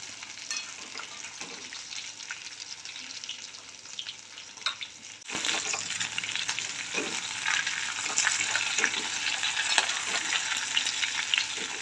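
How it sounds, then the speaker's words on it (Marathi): Stuffed masala okra frying in hot oil, a steady crackling sizzle that swells louder about halfway through as the pieces go in, with occasional stirring scrapes; no voices. "भेंडी फ्राय करण्याकरता आपण तेल टाकून घेऊ तेल गरम झालेलं आहे भेंडी टाकून घेऊ"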